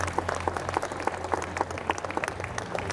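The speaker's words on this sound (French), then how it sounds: "Let's give a round of applause for Laura." Applause from a theatre audience at a Winnie the Pooh show in Disneyland Paris, a fairly soft patter of many hands with a few louder claps standing out over a low steady hum.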